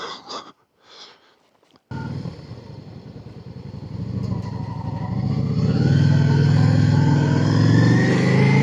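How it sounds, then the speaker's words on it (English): A motorcycle engine rides down Winnats Pass, starting after a few handling noises and then droning steadily close by, its pitch and loudness slowly building as it gathers speed. "I'm now going to ride back down the Winnats Pass"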